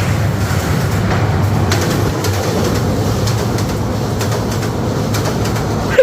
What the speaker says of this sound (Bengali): চলে আসছে অলরেডি ট্রেন।